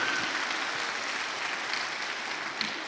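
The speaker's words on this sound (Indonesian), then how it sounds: "tepuk tangan untuk beliau" An audience at an Islamic business lecture applauds a coach being honoured, a soft, steady wash of clapping heard from a distance without any talking.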